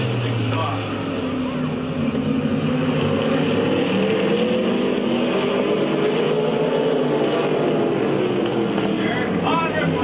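Race cars lapping at Midvale Speedway in 1997, engines droning and swelling in the distance under steady announcer commentary.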